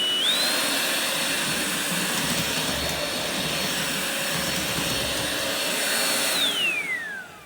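A Ryobi cordless stick vacuum runs with a steady high-pitched whine, its motor pitch rising at start-up and sliding down as it powers off near the end, with no talking.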